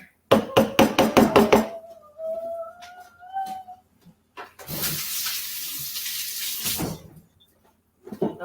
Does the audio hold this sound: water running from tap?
yes